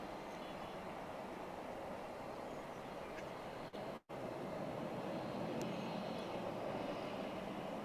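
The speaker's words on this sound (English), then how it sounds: "It's an A320 making the turn on 18 left." An Airbus A320 airliner taxis at DFW Airport, a steady distant jet roar that holds evenly through the clip apart from one brief dropout partway through.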